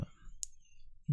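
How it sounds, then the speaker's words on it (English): A single crisp computer mouse click sounds near the middle, faint and close, between brief bits of a man's speech while setting up a Shopify app. "now we click on save"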